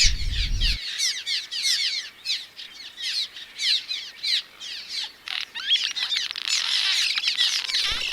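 A colony of birds calls from mud nests under the roof awning of a storage facility, adults and chicks giving dense overlapping harsh squawks and chirps, fairly close, continuous and busy, with no talking.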